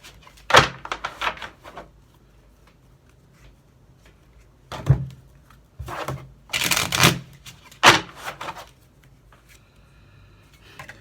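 Tarot cards shuffled and drawn by hand: several short bursts of riffling and flicking with soft thumps between them, close and fairly quiet, with stretches of near silence.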